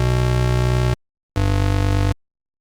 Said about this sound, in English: just make a really full sounding square wave bass